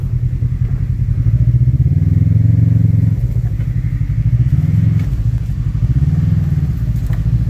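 Loud, close engine drone from an off-road truck crawling in four-wheel drive, with clatter from branches and brief surges of revving as it drives over debris.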